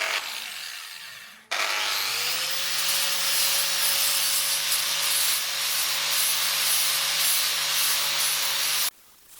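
An angle grinder with a flap disc spins up and grinds metal on a Harley-Davidson motorcycle in one long, loud, continuous whine before cutting off abruptly.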